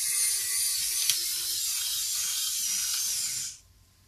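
A Kaiweets ES20 electric precision screwdriver whirring steadily as it drives hard screws, a high buzzing motor tone with faint clicks, running close for about three and a half seconds before cutting off.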